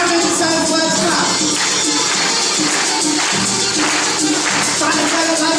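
A group of kids playing Simon Says claps their hands together in a loose, repeating rhythm, the bursts of clapping pulsing evenly over background music and chatter.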